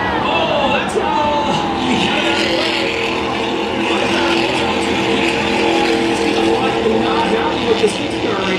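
Junior spec late model race cars at Irwindale Speedway roar steadily and loudly through a race, with engines droning in a dense wash and crowd noise mixed underneath.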